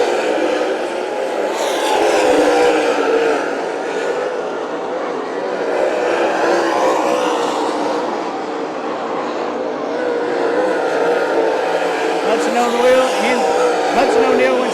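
Lucas Oil late model race cars roaring around Smoky Mountain Speedway during a heat race, a sustained loud engine din from a pack of cars that swells and fades as they pass, with a commentator's voice running over it.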